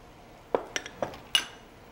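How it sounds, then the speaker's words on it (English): Clams and scallops drop into a pan with four quick clinks and clacks of shell against metal, close and fairly quiet, spaced unevenly over a couple of seconds. "So what I'm adding to this is some clams, some scallops,"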